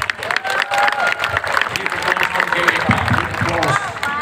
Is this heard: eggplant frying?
no